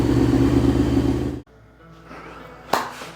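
A 2003 Honda CBR F4i motorcycle engine runs loud and steady, then cuts sharply to a quieter idle with one brief rev burst near the end.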